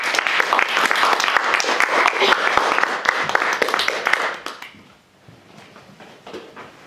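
An audience claps loudly and steadily to welcome a speaker at a book launch, then the applause quickly fades out to quiet room noise.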